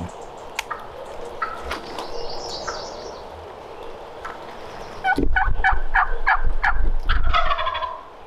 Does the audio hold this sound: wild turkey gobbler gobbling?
yes